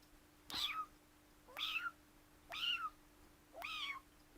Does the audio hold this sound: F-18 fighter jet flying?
no